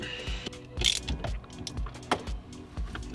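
A ratchet tightens bolts on an Audi B8 shifter assembly, giving rapid close clicking bursts of pawl ticks in short uneven strokes, loud and with no talk.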